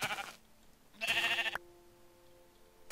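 Two short bleats from sheep in Minecraft, each clear and fairly loud, separated by a quiet gap, with a faint tonal hum and the start of a third sound at the end.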